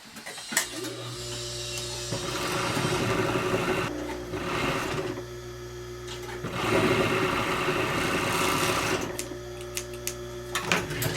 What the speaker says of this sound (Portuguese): Eu vou passar na overlock aqui.